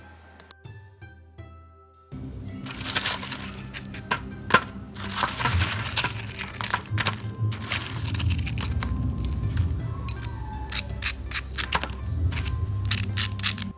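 Crispy fried potato fries for honey chilli potato crunched up close after a quiet start, a continuous run of dry, brittle crackling and snapping with scattered sharper cracks, no talk.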